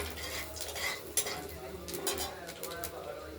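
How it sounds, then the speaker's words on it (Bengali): Potatoes going into hot oil with tempering spices for a Bengali katla fish curry, with a soft sizzle and repeated metal spoon scrapes and clinks against the pan, close and fairly quiet. "এবার আলুগুলো দিয়ে দেবো আলু ফোড়নের জিনিসগুলোকে একটু নাড়াচাড়া করে দিয়ে আলুগুলো দিয়ে দেবো গরম তেল ছিল হয়ে গেছে"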